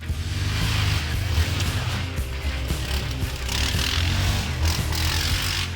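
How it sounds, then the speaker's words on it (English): Stock exhaust on a Yamaha Grizzly ATV gives a steady, loud low growl that holds throughout, with engine rumble dominating and small pulses in throttle. "I'm also a huge fan of the snotty low growl from the Grizzly stock exhaust"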